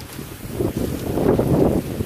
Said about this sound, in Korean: 아까 바람 진짜 심하게 분다.